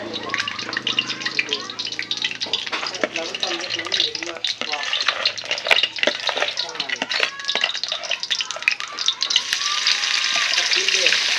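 Crickets dug from the ground are frying in a pan, giving off a steady close-up sizzle broken by scraping and clatter from stirring, with people talking over the cooking.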